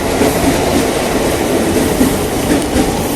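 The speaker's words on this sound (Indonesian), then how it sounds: "Ini kereta jadul" An old commuter train rolls past on rails near Jakarta, a loud steady rumble with clickety-clack of wheels over track joints and faint squeal, continuous and close throughout.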